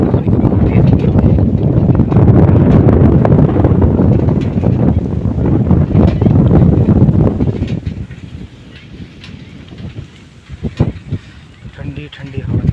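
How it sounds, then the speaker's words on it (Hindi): Strong gusts of cool wind near a river buffet the microphone with loud, rumbling roar for several seconds, then ease into a quieter, lighter breeze with occasional bumps. "ठंडी ठंडी हवा चल रही है भाई"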